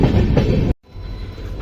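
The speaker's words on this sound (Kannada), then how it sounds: "ಟ್ರೈನ್ ಈಗ ಬಂದೈತಿ ಕುಕ್ಕೆ ಸುಬ್ರಹ್ಮಣ್ಯ ರೋಡಿಗೆ." Panchaganga Express, train 16595, pulls into Kukke Subramanya Road station in the early hours: a loud, close rolling rumble cuts out for a moment, then resumes at a lower, steadier level.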